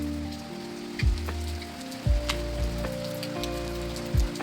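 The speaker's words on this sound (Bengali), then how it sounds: "আর শেষ দিনে শুরু হয়েছে প্রচণ্ড বৃষ্টি।" Heavy rain falls steadily in a forested hill village near Kalimpong, North Bengal, forming a constant close patter, with a few soft thumps and a faint tonal hum underneath.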